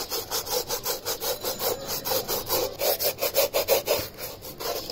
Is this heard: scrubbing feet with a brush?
yes